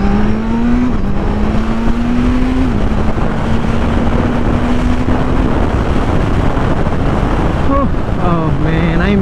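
A 2020 Kawasaki Z900 motorcycle ridden on a cold day, its engine hum rising and settling through gear changes under loud, continuous wind buffeting on the microphone, with a brief revving flourish near the end.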